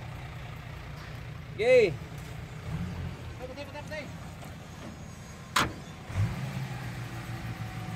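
A vehicle engine idles steadily during an unloading job at a vehicle trading yard, a low rumble under brief speech, with a couple of short mechanical clunks and squeaks on top.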